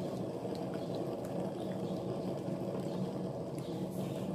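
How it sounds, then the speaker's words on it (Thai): Water pours into a pot of Thai hang le curry, making a steady rushing, bubbling wash that holds at an even level for the whole stretch. "จะใส่น้ำลงไปเลยนะคะหนึ่งถ้วย"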